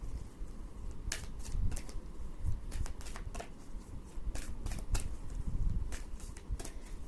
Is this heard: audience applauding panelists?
no